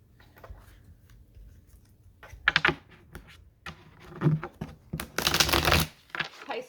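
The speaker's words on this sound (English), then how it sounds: "Pisces, I just shuffle until they tell me to stop." Tarot cards shuffled in short, crisp bursts of riffling, the loudest flurry late on, close and fairly quiet with brief pauses between.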